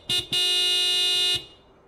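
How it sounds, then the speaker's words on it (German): Car horn honked in the point-and-click adventure game Broken Sword 5 (Baphomets Fluch 5): a short toot, a brief gap, then one long loud blast of about a second, alone with no talk. "Dann wollen wir doch mal hupen, ne?"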